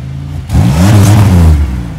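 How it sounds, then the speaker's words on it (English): A Pontiac Grand Prix race car engine revs up sharply from a low idle, its pitch climbing and holding loud for about a second before easing back down. "Rev her up a little bit."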